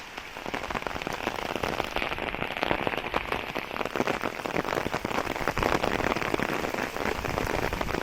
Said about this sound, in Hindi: ओ तेज बारिश आ गई